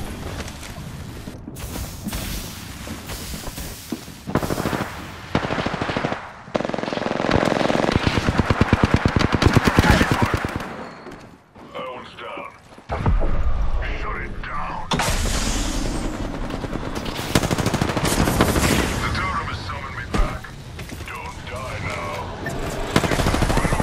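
Rapid automatic gunfire and booming blasts from a shooter video game, dense and loud throughout with brief lulls, a voice talking over parts of it.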